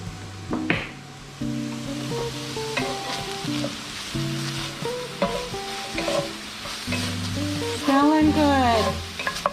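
Lasagne ingredients fry and get stirred in a pan with a soft continuous sizzle and occasional scraping, under a melodic music track.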